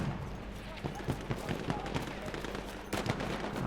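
Gunfire during a trench fight in the Battlefield 1 video game, a series of rapid sharp shots and bursts at mid distance, with a voice speaking over the chaotic battle noise.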